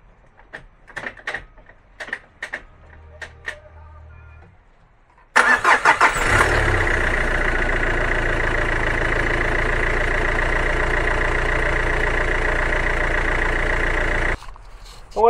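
A car engine cranks and catches after a few light knocks and clicks, then settles into a loud, steady idle for about nine seconds before cutting off abruptly.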